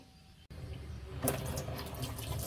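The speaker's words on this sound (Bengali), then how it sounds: "হাতটা ধুয়ে নেব ভালো করে।" A kitchen tap starts running for handwashing after a brief pause, a steady splashing stream of water that continues to the end, close and moderately loud.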